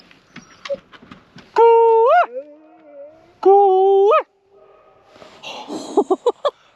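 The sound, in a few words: dog Jackson barking and howling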